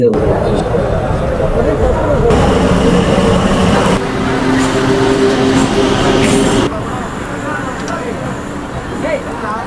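A suburban local train bound for Beach station rumbles past nearby, a loud continuous clatter whose tone shifts midway before easing off, with voices audible close by.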